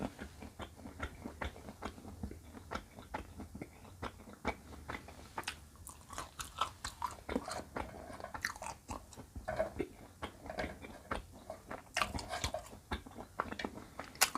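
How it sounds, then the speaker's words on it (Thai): Crisp, close-up biting and chewing of young, tender boraphet, a bitter Thai herbal vine, with rapid irregular crunches repeating steadily throughout and no talking. "ลองกินอันอ่อนๆบ้างค่ะ อืมกรอบ"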